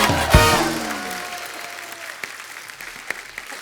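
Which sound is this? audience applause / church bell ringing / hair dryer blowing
audience applause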